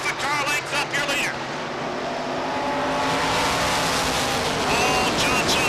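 Stock cars racing at Beech Ridge Motor Speedway in the Coke 100, a steady loud roar of engines building and sweeping past, with a commentator talking over it at the start.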